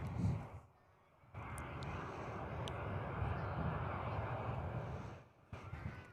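Qantas airliner at Perth airport, its jet engines roaring steadily and loud for several seconds, with a brief quieter gap at the start and the noise easing near the end.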